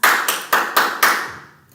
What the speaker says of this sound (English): So it'll be stamp followed by 5 claps.